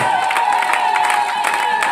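A church congregation cheers loudly and continuously, voices blending into a steady roar with scattered clapping throughout.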